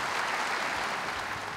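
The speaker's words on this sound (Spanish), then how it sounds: "Bien se merecen un aplauso de todos nosotros y muchas felicitaciones." Audience applause at an environmental awards ceremony, a dense steady wash of many hands clapping together, moderately loud and continuous.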